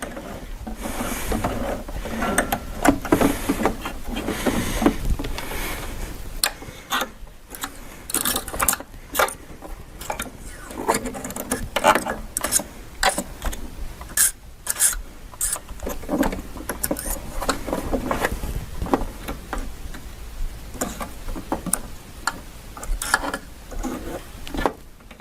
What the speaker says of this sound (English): So I'm going to turn the wheel backwards 1 or 2 rotations.